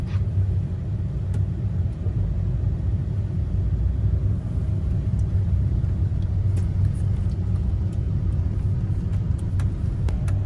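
A Chevrolet Avalanche pickup truck on the road just after a brake pad replacement, heard from inside as a steady low rumble of engine and tires that runs the whole time with no talking.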